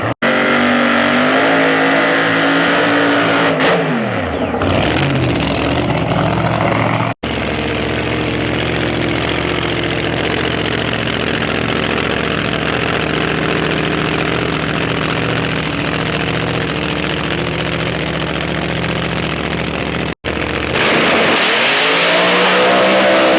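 A Pro 275 nitrous drag racing car runs at a drag strip, its engine droning loud and close with a rising rev, a sustained high-power roar, and sudden cutoffs near the start and end.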